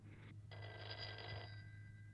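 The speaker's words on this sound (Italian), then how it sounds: "Dannati telefoni, stupida invenzione." An old-fashioned telephone bell rings in an indoor scene, a bright metallic trill that cuts out briefly and then resumes for about a second before fading, fairly faint over a steady low hum, no voices.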